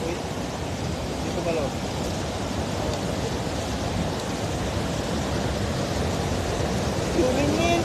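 A waterfall pours down beside a river where cast net fishing goes on, a steady broad rushing roar heard throughout from a moderate distance, with people talking over it.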